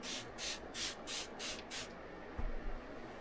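Fabric smoothing spray misted from a can onto fabric during ironing while sewing a quilted jacket: six quick, close spray bursts in a steady rhythm, followed by a soft thump of handling.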